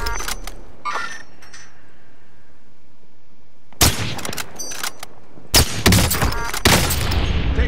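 Gunfire in Call of Duty Warzone, Rebirth Island quads: loud, close bursts of shots in irregular clusters, with short volleys early on and heavier barrages after a quiet stretch, ending in rapid fire.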